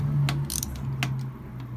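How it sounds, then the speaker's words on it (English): A ratchet loosens the clutch cover bolts on a Kawasaki ZX-7R motorcycle, giving a few quick clicking bursts over a low, steady background hum. "these bolts aren't actually that tight, but let's try and loosen them off in opposites"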